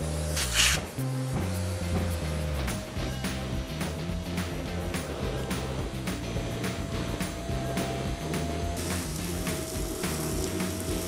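A professional Kärcher vacuum motor drones steadily while quick, sharp air pulses from its automatic filter cleaning tick through it at a regular pace.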